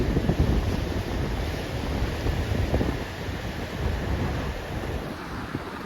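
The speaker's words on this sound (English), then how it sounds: "that point up there really pinches the water and it gets pretty violent there as well" Violent rushing river water near the Whirlpool, where a point pinches the flow, roars as a broad, continuous turbulent wash, close and loud, with wind buffeting the microphone and no talk.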